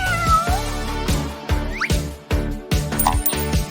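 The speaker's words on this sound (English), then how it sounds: "Oh, what a pretty kitty." A cat meows repeatedly and loudly up close, in a rhythmic run of about seven calls, each a short squeaky meow, with no talking.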